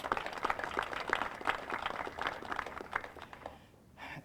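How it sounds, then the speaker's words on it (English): Audience applause at a clean energy launch ceremony: a steady patter of many hands clapping at moderate distance, continuing for several seconds before thinning out near the end. "So a round of applause, please, for those pioneers."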